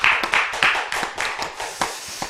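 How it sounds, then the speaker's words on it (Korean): Korean church congregation clapping in praise after a prayer at a Friday late-night service, a brisk flurry of many hands with sharp individual slaps rising out of steady, fairly close applause. "하나님께 우리 영광의 박수 올려드리겠습니다"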